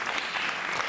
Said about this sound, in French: vraiment, on peut l'applaudir.